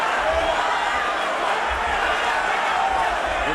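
A boxing arena crowd at Lomachenko vs Martinez keeps up a steady, dense roar throughout, with faint commentary talk over it.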